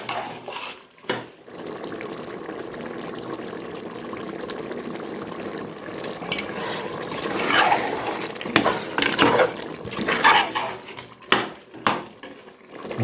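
Dindigul mutton biryani stirred in a pressure cooker, a soft simmering hiss broken by scraping and clattering of a ladle against the metal pot, getting louder and more irregular toward the end.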